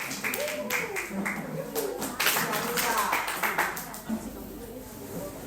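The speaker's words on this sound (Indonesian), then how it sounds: "tepuk tangan dulu buat kelompok 2 dong" A class claps for a presenting group in a classroom, a dense run of hand claps over steady room noise and voices, fading slightly toward the end.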